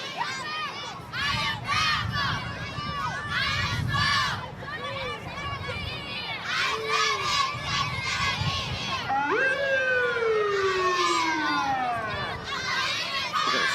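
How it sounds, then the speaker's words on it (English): An emergency vehicle siren wails at a downtown Christmas parade in Jackson, rising and falling under a noisy crowd of cheering voices and children. "Look at the siren coming behind here as well."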